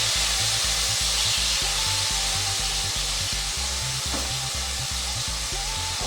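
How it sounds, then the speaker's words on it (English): Garlic sizzles in a hot pan, a dense continuous frying hiss with a faint rhythmic low thumping running underneath throughout. "it looks like this is getting hot. I'll go ahead and put my garlic in."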